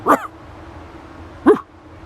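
A voice imitates a sasquatch with two short, deep grunts, spaced about a second and a half apart, with quiet between them.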